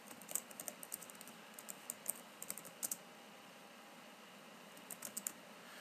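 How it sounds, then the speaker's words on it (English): Quiet, close typing on a computer keyboard: short bursts of light clicking keystrokes separated by brief pauses, over a faint steady room hiss. "I will just type the University of Minnesota."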